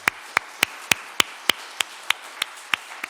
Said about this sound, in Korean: 오늘 추수감사 주일 예배로 받으시는 하나님 앞에 영광의 박수 올려드리기 원합니다.